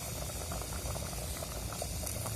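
Eggplant curry boiling in a pot, a steady close bubbling and gurgling with a soft hiss that runs unbroken throughout, with no talking.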